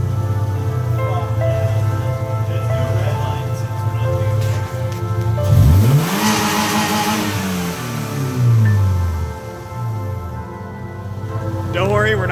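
A Subaru Legacy engine running with no alternator revs up and falls back in a couple of rising and falling sweeps over a steady idle, loud and close, with voices talking over it.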